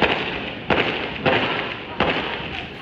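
Firecrackers go off on the last day of Chinese New Year: a dense, continuous crackling din broken by three louder sharp bursts, close and loud.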